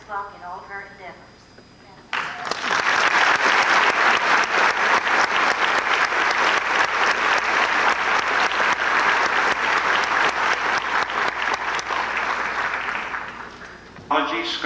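Audience applause at a civic recognition ceremony honoring a resident, starting after a brief bit of speech and then holding as a loud, dense, sustained clapping for about twelve seconds before tapering off.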